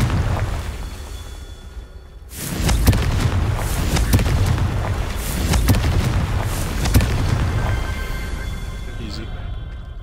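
A Confringo explosion spell in Hogwarts Legacy erupts with a sudden loud blast, followed by sustained rumbling, crackling debris and bursts of impact noise that continue at full strength for several seconds.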